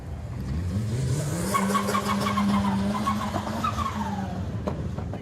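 A Mazda MX-5 race car in a live class qualifying session revs hard as it passes the commentary tower, its engine note climbing and then falling away, loud and with no talk over it.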